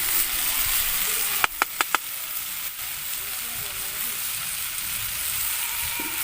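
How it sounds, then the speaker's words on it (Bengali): Mixed vegetables for a Bengali labra curry sizzle steadily in a pan, with a quick run of four sharp utensil clicks as they are stirred, then the frying carries on alone. "আবারও আমি সব কিছু খানিকক্ষণ নাড়াচাড়া করে নেব"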